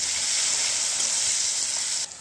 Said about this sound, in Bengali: পেঁয়াজ কুচিটা একটু ভাজা ভাজা করে নেব।